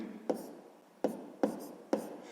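Pen strokes on paper during a sixth-grade math exercise: four separate, crisp scratchy strokes, each fading quickly, spaced unevenly over about two seconds, close and quiet, with no talking.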